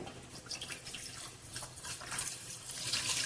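Cold water pours and trickles steadily into a vessel in a kitchen while rice-flour papad are steamed, a close, continuous splashing stream that grows slightly louder toward the end.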